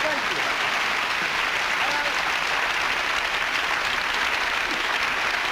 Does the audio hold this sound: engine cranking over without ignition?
no